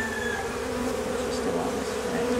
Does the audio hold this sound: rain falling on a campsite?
no